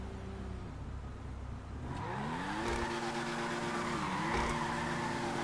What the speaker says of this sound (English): My car can do donuts with minimal efforts.